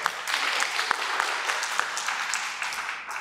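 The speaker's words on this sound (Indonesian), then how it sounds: "tepuk tangan dulu" An audience at an Indonesian independence anniversary event on disaster preparedness claps in a sustained round of applause, with fairly close, distinct hand claps standing out from the crowd.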